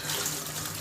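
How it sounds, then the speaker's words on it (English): Water running steadily from vegetables set in a small sieve-like basin with large holes, a continuous splashing rush heard close and alone. "I'm putting my vegetables here so that they can drain all the water."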